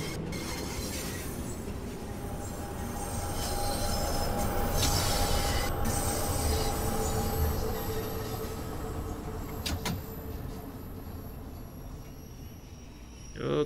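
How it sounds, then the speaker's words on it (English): Rumble of a passing London Underground train beside the station in the Train Sim World 4 simulator on the Bakerloo Line, a steady rolling noise with high wheel squeal that swells in the middle and then fades. "I hear another train going on to the side."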